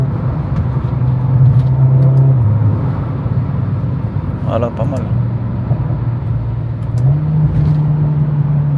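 A car engine runs at a steady, loud drone with small exhaust pops, heard from inside while a person speaks briefly over the rumble.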